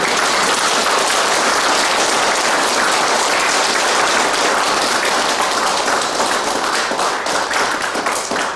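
Loud, sustained audience applause at a Lenten lecture, a dense wash of many hands clapping steadily throughout with no talk over it.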